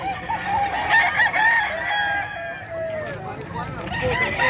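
A Boston Roundhead rooster at a poultry market crows close by in a drawn-out call, amid other clucking and crowing fowl and a background murmur of voices.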